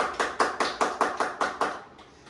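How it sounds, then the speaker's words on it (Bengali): Quick, even rhythm of hand claps from a small group honoring a prize winner, about eight sharp beats in a row before trailing off, fairly close and moderately loud with no talking. "জোর করে হাততালি হয়ে যাক।"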